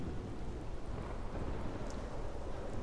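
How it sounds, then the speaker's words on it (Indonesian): Rain falling in a dramatized retelling of the drought-ending storm in the Elijah and King Ahab story, a steady dense hiss with a low rumbling undertone that holds constant throughout, no voices present. "Ada setitik hujan."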